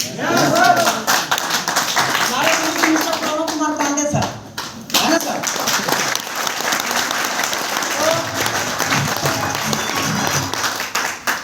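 Audience members at a network marketing meeting clap in bursts of applause, with a brief lull in the middle, while someone speaks over the clapping.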